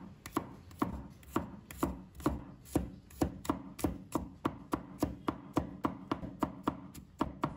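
Knife mincing garlic on a cutting board, a brisk, steady series of sharp chops, roughly three per second, close and clear with no talking.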